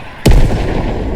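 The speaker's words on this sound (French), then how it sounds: "Qu'est-ce que c'est que ça? Un lance-roquette." A video game rocket launcher fires once, a sudden deep boom with a low rumbling tail that fades slowly over the following second.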